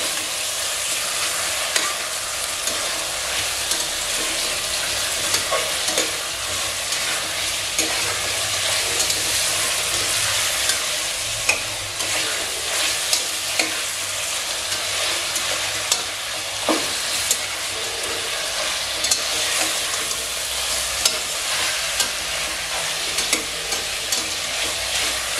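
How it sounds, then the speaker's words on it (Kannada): Masala for Andhra-style chilli chicken frying in hot oil, a dense continuous sizzle under repeated stirring clicks and scrapes, loud and close throughout with no voices. "ಇದನ್ನು ಸ್ವಲ್ಪ ಹೊತ್ತು ಆಯಿಲಲ್ಲಿ ಫ್ರೈ ಮಾಡ್ಕೊಳ್ಬೇಕು."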